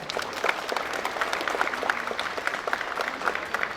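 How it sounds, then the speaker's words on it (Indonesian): A school audience applauds the regent at the opening of the SMANTIKA Expo 2020 at SMAN 3 Kuningan, with dense, steady clapping from a crowd that holds evenly for several seconds and has no talk over it. "beri aplaus untuk Bupati kita."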